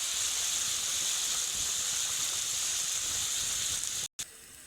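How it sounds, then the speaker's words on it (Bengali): Ginger-garlic paste with ground spices cooking over low heat, a broad unbroken sizzling hiss close to the pan, even in loudness, cutting out briefly near the end. "আদা রসুনের পেস্ট দিয়ে দেবো। একসঙ্গে সমস্ত মশলা বেশ হালকা আঁচে কষে নিতে হবে।"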